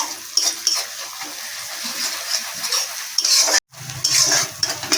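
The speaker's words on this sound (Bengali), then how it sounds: "হলুদ গুঁড়োটা ভালো করে দিয়ে ভেজে নেবো" Turmeric powder frying with fried onion in a pan for an egg curry, a close sizzle with spatula stirring and clinks against the pan, a brief gap near the end, then sizzling and scraping again.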